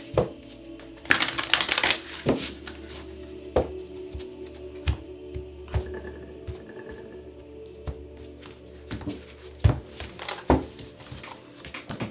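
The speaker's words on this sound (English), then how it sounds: "Okay, last shuffle." Cards are shuffled in several quick riffling bursts, crisp papery flutters close by with short pauses between them, and no talking.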